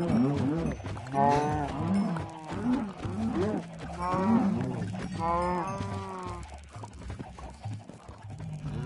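Cattle in the Minecraft video game moo repeatedly in overlapping drawn-out calls, several animals lowing one after another at close range with no talking over them.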